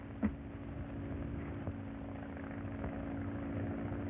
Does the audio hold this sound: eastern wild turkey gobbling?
no